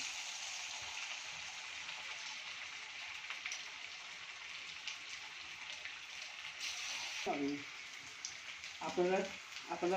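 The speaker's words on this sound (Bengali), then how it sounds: "হ্যাঁ, এখন তেল গরম হয়ে গেছে, এখন আমি ছেড়ে দিচ্ছি, পকোড়াগুলো ছেড়ে দিচ্ছি।" Rice pakoras dropped into hot oil sizzle with a steady, fairly quiet crackle, with bubbling bursts near the end as the batter hits the oil.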